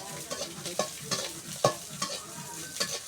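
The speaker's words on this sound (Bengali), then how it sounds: "ধনে পাতাটা ভেজে নিব তেলে" Garlic, onion and coriander leaves fry in oil on a stove, a soft sizzle broken by repeated scraping stirs at a fairly regular rhythm, with no voices.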